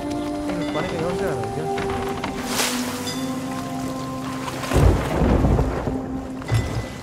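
Rain patters steadily over a ship at sea in Sea of Thieves, with a low thunder rumble swelling near the end and tonal game sounds layered throughout, while people talk over the scene.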